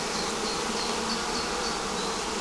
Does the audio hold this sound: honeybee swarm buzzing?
yes